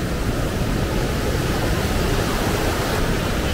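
Storforsen rapids in Sweden, Europe's longest rapid, roar as a dense, steady rush of white water, loud and unbroken throughout with no voices.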